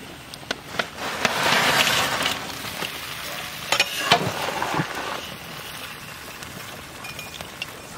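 Fried hilsa fish added to a pan with a little water, salt and turmeric sizzles close by. Scattered clacks and scrapes of stirring come in bursts over the bubbling.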